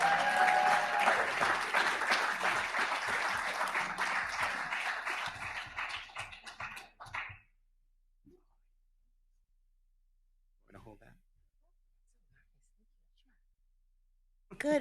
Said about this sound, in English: Applauding because Dia Sims is here.